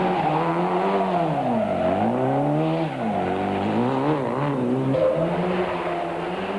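Class D rally car at the 1993 Swartland Rally, engine loud and close throughout, its pitch rising and falling in sweeping revs as it accelerates, brakes and shifts gears along the stage.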